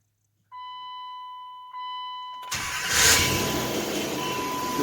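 A Dodge Dakota 4.7 V8 with a fresh timing chain job starts up: a steady tonal chime sounds first, then the starter cranks and the engine catches into a loud, rough roar that settles into a running note.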